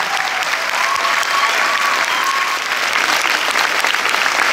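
A cinema audience applauding a film crew at a Paris premiere, dense clapping sustained at even loudness for several seconds, with a few voices faintly mixed in.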